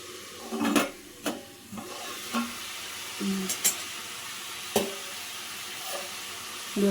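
Crab masala sizzles and bubbles in a pan while a spoon stirs it, with intermittent scraping and clinking strokes over a steady low frying hiss, close and moderately loud.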